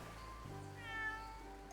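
A cat meows once, a drawn-out mid-pitched call near the microphone over a steady low background hum, with no talking during it.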